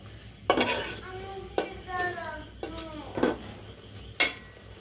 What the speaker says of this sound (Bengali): মরিচ মশলাগুলো একটু ভালো করে কষিয়ে নিই